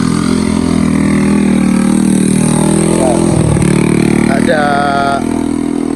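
Engine of a road compacting machine at a village road construction site in Sukabumi, running as a loud, steady low drone throughout, with a brief voice and a whistle-like tone over it near the end.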